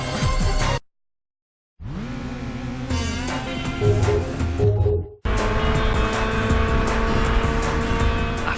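Car engines roar in the PS2 racing game Burnout as a car weaves through traffic on the opposite lane, loud revving with whooshing passes and game music, broken by a second of silence and an abrupt cut.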